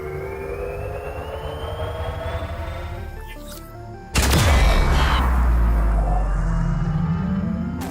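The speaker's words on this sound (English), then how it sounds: "Did you hear something that sounded like a big fire-off explosion?" A big explosion in the survival video game Grounded goes off suddenly midway through, a loud booming burst that then rumbles and fades slowly, following a quieter stretch of game ambience with rising tones.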